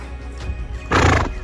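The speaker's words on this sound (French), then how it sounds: "Il y a des chevaux partout en liberté." A horse roaming free on the Mongolian steppe gives a loud, close whinny that swells and shakes for about half a second, over a constant outdoor rumble.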